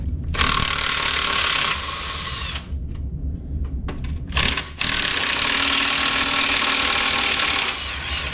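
A wrench ratchets rapidly while a Comanche is taken apart, running in two long, loud, close bursts separated by a short pause with a few clicks.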